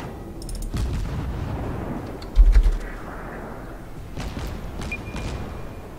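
Naval guns fire in the World of Warships video game, with a heavy booming salvo in the middle and lighter distant thumps and ambient sea noise around it, moderately loud, without talking.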